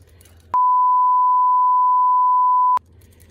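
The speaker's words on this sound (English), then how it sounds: "Like, what was that beep for?" A single steady electronic tone, loud and pure, holds for about two seconds with an abrupt start and stop against near silence.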